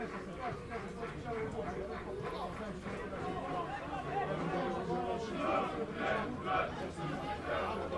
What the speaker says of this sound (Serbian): Čuju se navijači domaćeg tima